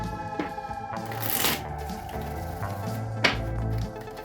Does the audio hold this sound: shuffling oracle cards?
yes